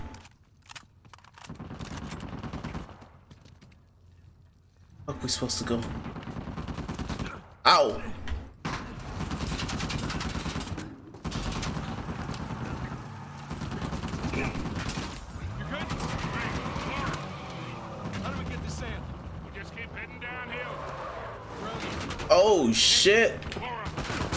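Bursts of AK rifle fire ring out in Uncharted 4, scattered volleys and single shots among thuds and mechanical clatter across a long stretch, with talk mixed in.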